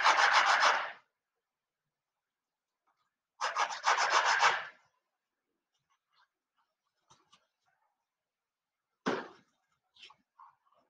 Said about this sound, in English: This just needs to be sanded just a little bit.